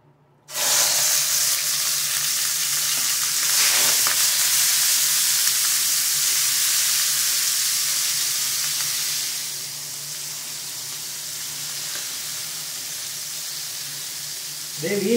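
Beef liver dropped into a hot pan, a sudden loud hiss that settles into steady close sizzling and frying, easing slightly later on, with no talking over it.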